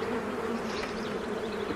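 Honeybees hum steadily inside an opened, light hive that needs feeding, a close, continuous buzzing drone with no voices over it.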